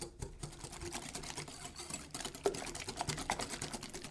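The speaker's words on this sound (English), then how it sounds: "Add the sugar and whisk the ingredients together." Eggs and sugar are whisked in a mixing bowl, making a quiet, rapid, rhythmic tapping and swishing that runs steadily throughout without talk.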